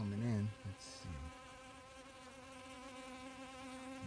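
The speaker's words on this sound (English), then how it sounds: "My honeybees love this sawdust." Honeybees buzz around cedar sawdust close by, making a sustained, wavering hum that holds steady throughout. It starts with a brief louder rise.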